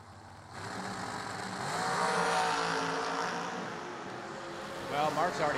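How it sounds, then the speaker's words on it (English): A drag racing dragster roars past at a vintage-trailer Twin Fifties event, a loud sustained engine howl that swells and fades, with commentary heard over it. "Pretty quick dragster right there."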